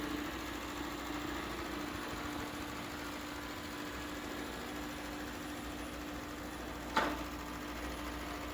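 A Shark Matrix robot vacuum runs through a room on its first cleaning pass, giving off a quiet, steady motor hum with a faint whine and one brief knock partway through.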